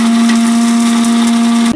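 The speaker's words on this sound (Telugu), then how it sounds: "10 మిరియాలు, ఇవన్నీ కలిపి ఒకసారి మిక్సీ జార్ పట్టుకుందాం" A kitchen mixer grinder jar grinding raw black peppercorns with other whole spices gives a loud, steady motor whine that holds evenly, then cuts off abruptly at the end.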